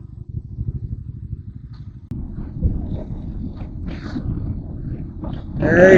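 A food delivery rider's motorcycle with a noisy, apparently broken rear wheel bearing rumbles steadily while riding over a potholed road, a low continuous drone that grows louder at the end.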